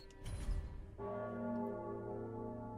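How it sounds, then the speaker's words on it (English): A deep bell in the video game Dark Souls 3 strikes once after a short noisy burst, and its rich toll rings on and slowly fades. "The bell's tolling!"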